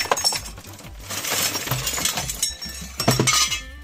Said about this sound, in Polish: wysypujemy 5 kg z takiej gumowej rozbiórki